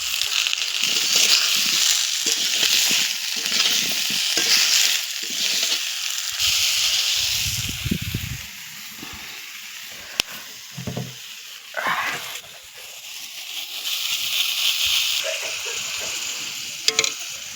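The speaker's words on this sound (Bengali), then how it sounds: "ভেজে নেবো" Potatoes frying in a pan with salt, chili and turmeric, a continuous close sizzle and hiss with occasional stirring scrapes, fading slightly midway before picking back up.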